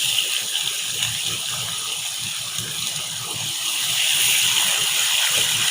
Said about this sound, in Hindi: अब इसमें थोड़ा सा पानी डाल के आधा कप